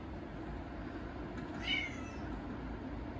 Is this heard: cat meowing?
yes